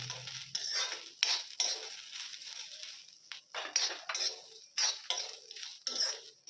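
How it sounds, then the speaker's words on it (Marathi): Spices with black pepper and nutmeg are stirred and roasted with onions in a pan over a medium flame for Nagpur-style mutton rassa, giving repeated scraping strokes and metallic utensil clinks with faint sizzling. "आता याला आपण सगळं मिक्स करून घेऊ. याला सुद्धा याच्याबरोबर कांद्याबरोबर भाजून घेऊ."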